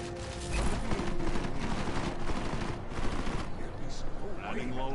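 Rapid video game gunfire fills the moment, dense and continuous like a fusillade of automatic shots.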